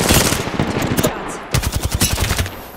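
Rapid automatic gunfire in the Apex Legends video game: loud close bursts of shots, a brief pause, then a fast rattling string of rounds.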